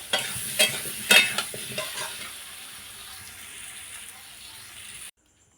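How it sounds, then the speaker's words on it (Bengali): Potatoes fry in mustard oil in a pan with a continuous close sizzle, a few clinks and stirring knocks early on, before the sound cuts off abruptly. "এখন আলুগুলো এইভাবে ভেজে নেব"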